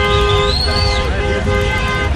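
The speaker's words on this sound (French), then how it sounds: "déjà les klaxons résonnent dans Tunis" Car horns honk through the streets of Tunis as crowds celebrate after a presidential speech, several overlapping tones and a long rising blare, with voices and street noise beneath.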